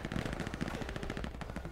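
Rapid automatic gunfire rattles in the World War II shooter game Hell Let Loose, a dense burst of repeated shots close by, continuous through the short moment.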